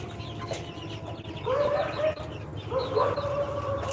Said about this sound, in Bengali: এখানে অনেকগুলো মুরগি আছে